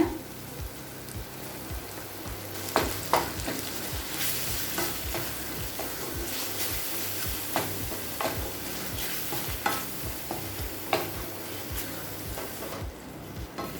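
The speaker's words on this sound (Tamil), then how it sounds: "மிளகாய் பூண்டு எல்லாத்தையும் ஏற்கனவே வதக்கியாச்சு, அதனால் லேசாக வதக்கினா போதுங்க." A paste of ground chili and garlic sizzles with softened tomatoes in a pan for spicy garlic dosa, a continuous close frying hiss broken by repeated scraping stirs of a spoon.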